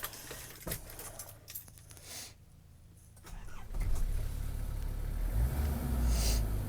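A 1997 Nissan Atlas 4x4 fire truck with a 2.7-litre TD27 diesel, already warmed up, rumbles low and steady near the microphone, idling at first and then running heavier and louder, with clicks and rustles in the cab.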